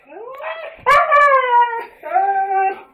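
A husky howls and yowls in a drawn-out, talking-like way, three long sliding vocal phrases with a brief breathy break between them, loud and close with no other sound.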